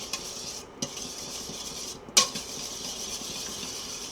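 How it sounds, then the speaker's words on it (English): Eggs being stirred into a sauce in a pan over gently simmering water for eggs Benedict, with a few soft scraping stirs and one sharper utensil clink against the pan amid quiet background noise. "I'm going to start stirring this up"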